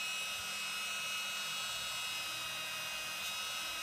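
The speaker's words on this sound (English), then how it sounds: "Turn up the speed on my Dremel tool just a little bit." A Dremel rotary tool spins at raised speed while polishing metal parts during a Glock 21 trigger job, producing a steady, faint high-pitched whine that holds constant throughout with no talking.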